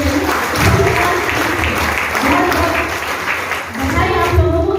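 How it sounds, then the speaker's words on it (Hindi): Applause from an audience filling a seminar hall at a Safe Shop India training session in Patna, a steady broad wash of clapping that holds throughout, with voices mixed in. "तो एक बार आप लोगों के लिए जोरदार ताली बजाइए।"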